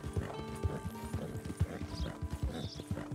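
Horse hooves clip-clop in a steady rhythm with a whinny in Red Dead Redemption 2, close and clear over a background game ambience.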